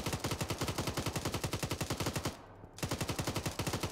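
A military vehicle's machine gun in a combat video game fires in rapid, steady bursts, a close, even stream of shots broken by one short pause before it resumes.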